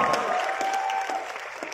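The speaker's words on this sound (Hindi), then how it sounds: "करण मेहता के लिए जोरदार तालियां प्लीज वेलकम." An audience at an IIT Bombay Mood Indigo college festival event applauds to welcome a guest, a short burst of dense clapping at moderate loudness with a faint sustained tone behind it.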